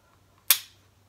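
A single sharp, crisp click from a pistol trigger resetting, one isolated snap in an otherwise quiet moment.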